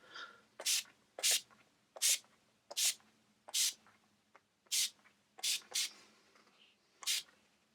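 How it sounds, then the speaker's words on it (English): A makeup setting spray misted onto a face in about ten short, sharp hissing bursts, close and fairly loud, each spaced under a second apart, with a little quiet between them. "So just shake it up and spray away until you feel very moist."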